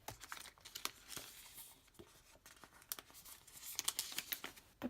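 A planner meeting sticker is peeled off its sheet, giving faint, close crinkling and light tearing sounds in a run of small scratchy bursts with no talking.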